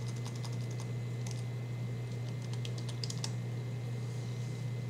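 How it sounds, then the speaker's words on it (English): Steady typing on a computer keyboard, a dense run of light clicking keystrokes with a few louder taps, close and continuous over a constant low electrical hum, with no talking. "and then go ahead and type in here"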